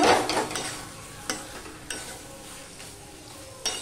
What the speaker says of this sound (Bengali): আমি ঢাকা দিয়ে দিয়ে কষাচ্ছি যাতে আলুটাও সিদ্ধ হয়ে যায়